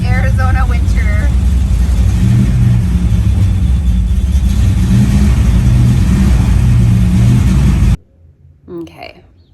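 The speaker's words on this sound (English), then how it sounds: "that car started right up" Car engine starts on a cold winter morning in Arizona, then rumbles and revs loudly at close range for about eight seconds before cutting off. A voice is heard briefly at the start and again afterward.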